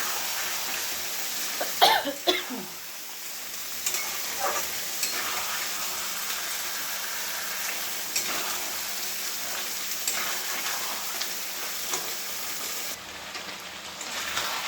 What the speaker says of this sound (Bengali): ভালো করে কষে নিই।